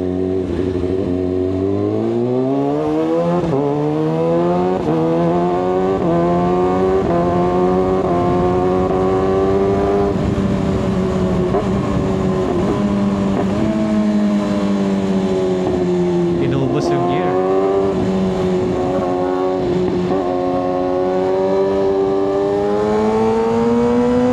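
Kawasaki ZX-6R sport motorcycle engine drones steadily while riding, pitch climbing through gears then holding a high rev, loud and close with wind rush throughout.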